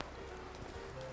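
Horse cantering in a riding arena during a lesson on proper leads, with soft rhythmic hoofbeats close by over steady background noise.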